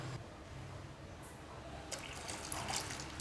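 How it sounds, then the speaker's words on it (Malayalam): Ragi mix poured into boiling water in a saucepan: faint, low bubbling at first, then a soft, splashy pour of liquid from about halfway through, all at low volume. "ഇപ്പോൾ നമ്മൾ മിക്സ് ചെയ്ത് വെച്ചിരിക്കുന്ന റാഗി ഒഴിച്ചു കൊടുക്കുക."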